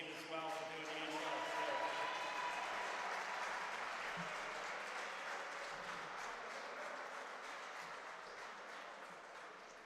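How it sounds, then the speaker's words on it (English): Crowd applause at an OSBA basketball game between two Orangeville Prep men's teams, a sustained, dense clapping that fills the hall and fades gradually over ten seconds, with faint voices mixed in. "Let's give a big round of applause for Coach Dave as well for doing the intro."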